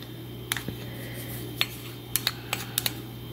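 A spoon mixes aloe vera gel into a homemade liquid foundation in a small dish, giving light, close metallic clinks and taps in an irregular series over a steady low hum, with no voices.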